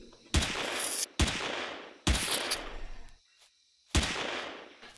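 Loud bursts of automatic gunfire in the space survival game Empyrion, several sustained volleys each lasting under a second, separated by short gaps with one longer silence before the final burst.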